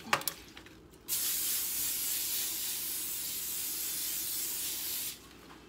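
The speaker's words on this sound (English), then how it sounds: "I'm going to take my cooking spray and I'm going to spray the rack." A steady aerosol hiss of cooking spray onto an oven rack runs for about four seconds, close and even, preceded by a few light clicks and handling noises.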